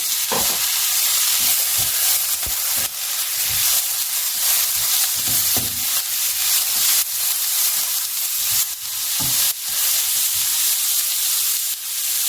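Onion and tomato sauté in a pan with a loud, steady sizzle, broken by repeated scraping and stirring clicks of a utensil against the pan, all close up.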